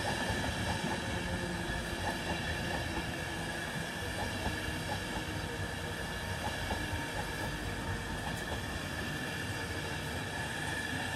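Train passing platform 1 at Northallerton station in North Yorkshire, a steady continuous rumble of rail wagons and rolling wheels with faint clatter, loud and close throughout without talk.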